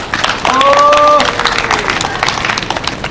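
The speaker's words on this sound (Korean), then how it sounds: "큰 박수로 환영해 주시기 바랍니다." A crowd at an outdoor rally about election fraud claims breaks into sustained applause and clapping that greets a speaker, dense and continuous, while a sustained tonal call or voice rises briefly over it near the start.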